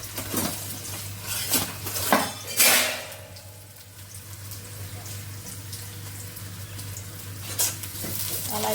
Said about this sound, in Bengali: মরিচ আর তেজপাতা ফরমে দিয়ে দিলাম আর ডালটা তেলে দিয়ে আলুগুলো ভেজে নেবো ভালো করে